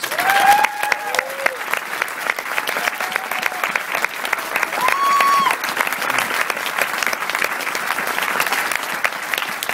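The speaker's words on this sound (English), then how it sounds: "Everybody give these people a round of applause." Sustained audience applause in a conference hall at a multi-level marketing event, a dense even roar of clapping hands with faint voices and a few whistles or calls within it.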